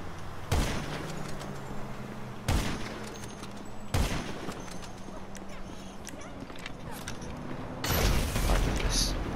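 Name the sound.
gunfire in a video game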